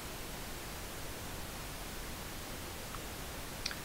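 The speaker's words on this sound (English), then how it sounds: "So let's go ahead and turn on some noise." Test noise played through a channel EQ plugin, a steady, even broadband hiss heard up close and on its own without pause.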